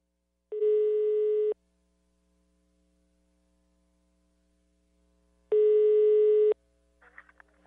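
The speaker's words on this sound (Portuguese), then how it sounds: "Eu vou ligar aqui pra Nazaré, a produção já tá encalcando o dedo aí no buraco do telefone. Tá chamando eu" A telephone ringback tone sounds while a call is placed: two long steady beeps about five seconds apart, clean and clear, with faint voice-like sounds starting right after the second beep.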